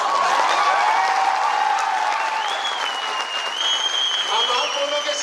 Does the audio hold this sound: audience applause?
yes